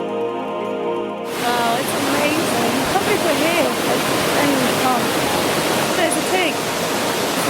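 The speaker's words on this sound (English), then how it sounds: "Very, very tranquil and peaceful here on the waterfall." A waterfall in Sri Lanka roars as a steady, loud broadband rush close by, continuous and unbroken after a brief opening tone, with a voice talking over the water noise.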